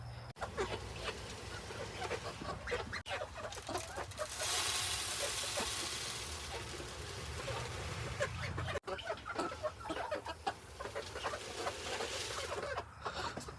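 A farm chicken that lays eggs clucks repeatedly close by, with scattered bursts of cackling over a noisy outdoor background.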